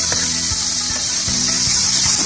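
Tomatoes, carrots, bay leaf and peppercorns sautéing in a pan, a bright constant hiss of sizzle with a few soft spatula scrapes and knocks underneath.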